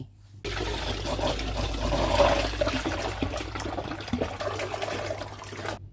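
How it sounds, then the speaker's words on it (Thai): Water pours steadily into a fermentation bucket while making calamansi honey wine, a loud continuous rushing gush lasting about five seconds, with no voices. "ระหว่างที่เราพักให้ยีสต์ทำงานเนี่ยเราเทน้ำลงถังหมักได้เลย"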